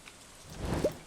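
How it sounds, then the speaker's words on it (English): Rainfall in the farming video game Stardew Valley, a faint, soft hiss of rain with a brief swell near the end, heard alone. "It's raining."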